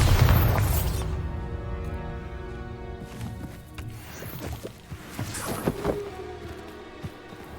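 Confringo and Bombarda spells go off in Hogwarts Legacy, a heavy booming blast at the start that decays into a rumbling tail, followed by scattered thuds and crackling impacts over low, sustained game music.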